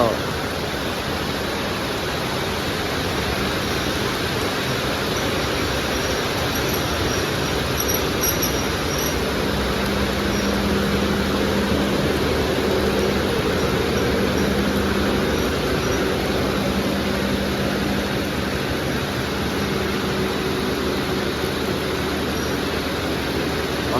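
Train 258 pulls out of Wang Yen station in heavy rain, a loud continuous rumble of rolling wagons and wheels with faint squeals running under the constant hiss of rainfall.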